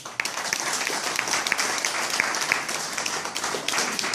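Audience applause at a political dinner-debate held by the FPI section of Bergamo: dense, steady clapping from a crowd runs the full length, loud and close.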